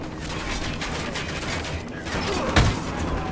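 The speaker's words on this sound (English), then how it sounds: "Fucking Apache's about to fire." Rapid bursts of Apache helicopter gunfire in Ghost Recon Wildlands, a dense, steady clatter with a sharp loud crack near the middle and no talking.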